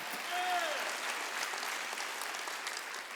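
Congregation clapping during a Wednesday evening worship service at a Korean church, a steady broadband wash of many hands filling the room for about three seconds, with a brief voice or tone sliding over it near the start.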